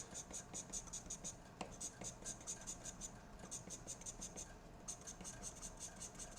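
A pencil scratches on paper in quick, even strokes, shading the dark areas of realistic dark hair in a drawing; the strokes come close and soft in a steady rhythm with brief pauses.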